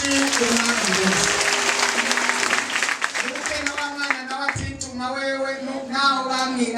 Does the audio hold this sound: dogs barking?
no